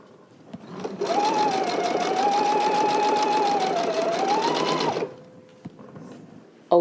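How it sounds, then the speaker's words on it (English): A sewing machine stitches a narrow baby hem in one steady run of about four seconds, a loud, fast, even mechanical whir with a slight change in pitch, preceded and followed by faint handling clicks. "now we go back to the sewing machine and we fold over this stitch and we stitch directly on top of our previous stitch."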